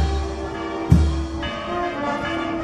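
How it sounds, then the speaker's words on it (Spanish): A church bell of the Santa Clara temple in Huamanga, Ayacucho, rings out during a religious procession with a sharp strike and a long humming, shimmering decay, heard alone at a moderate distance. "Las campanas ya del templo de Santa Clara tañen indicando la presencia del recorrido procesional de la Virgen del Carmen"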